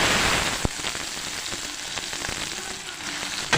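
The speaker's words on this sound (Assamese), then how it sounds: "আৰু ইয়াত পিঁয়াজ দিলোঁ।" Onions hitting hot oil in a home kitchen pan with bay leaf and dried chilli, a steady close sizzle and crackle throughout, with a couple of sharp clinks of a utensil.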